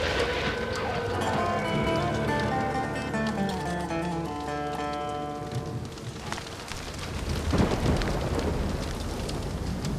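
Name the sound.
rain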